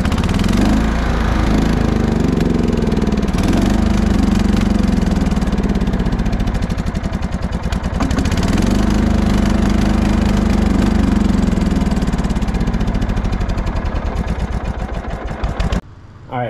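A Simplicity Coronet riding lawn mower with a Briggs and Stratton engine runs loud and close with a steady rough drone that wavers slightly, then cuts off abruptly near the end.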